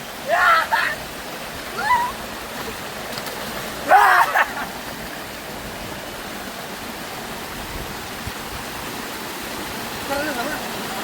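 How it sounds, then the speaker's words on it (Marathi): Steady broadband rush of a river flowing near Lonavala runs throughout, with a few short bursts of voices and brief shouts rising over it. "नदी बघा"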